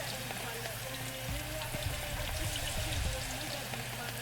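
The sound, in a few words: food sizzling while cooking in the video game Venba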